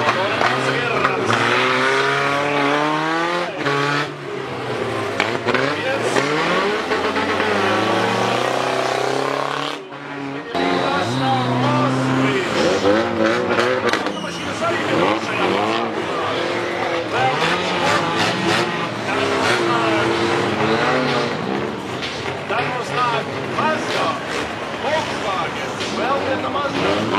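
Ford rally car racing at the Ozolmuiza survival event, its engine revving up and down loudly and steadily throughout, with tyre noise and a commentator talking over the top.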